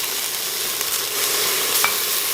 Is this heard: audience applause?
no